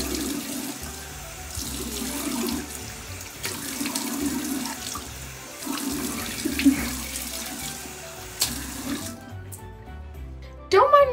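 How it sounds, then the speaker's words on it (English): Water runs steadily from a bathroom sink tap during face washing, a constant close splashing rush with intermittent splashes that cuts off near the end, followed by a brief clatter. "I'm just gonna wash my face really fast."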